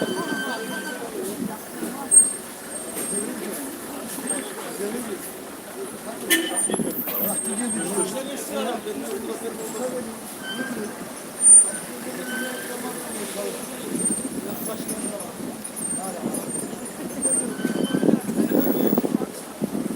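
Weekday midday city traffic streams past near a park in Ankara, a continuous rumble of passing vehicles with a few louder swells as trucks or buses go by, while someone talks over it.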